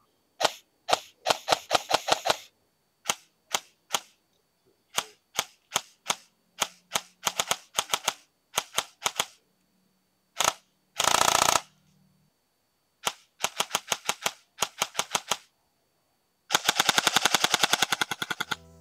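Venom KWA Mod 2 airsoft gun firing BBs in rapid bursts of sharp snapping shots, close and loud, with short pauses between volleys and a long sustained full-auto string near the end.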